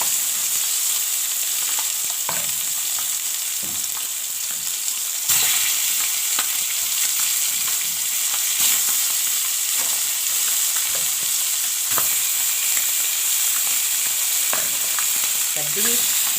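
Marinated chicken drumsticks sizzle and spit steadily in a hot pan, a dense crackling hiss with occasional sharper pops, close and continuous without any talk.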